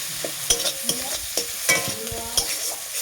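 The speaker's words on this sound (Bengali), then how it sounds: "এখন আমি দিয়ে দেবো টমেটো কুচি করা, আগে থেকে কুচি করে রেখেছিলাম টমেটো, সেই টমেটোগুলো দিয়ে দেবো" Chopped tomatoes frying in a pan for a potato, fig and tomato curry, with a spoon stirring in repeated scrapes and knocks over a steady close sizzle, no talking.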